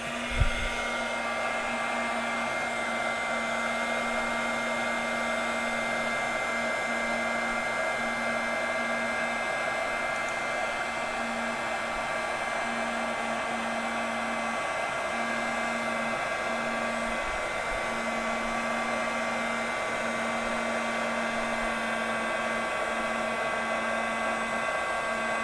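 A heat embossing tool blows hot air to melt embossing powder during double embossing, a steady close whir with a constant hum that runs unbroken for the whole stretch.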